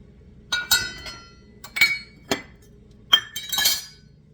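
Metal measuring spoons clink together in a few short bursts as they are gathered and put away in a kitchen, bright close rattles separated by brief pauses, no talking.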